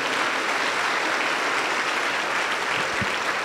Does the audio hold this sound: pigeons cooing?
no